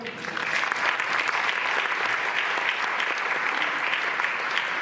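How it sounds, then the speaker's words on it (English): An audience at a school district's State of the District address applauds its cabinet, building quickly into a full, sustained round of clapping that holds steady, with faint voices mixed into the crowd. "we give them a round of applause, please"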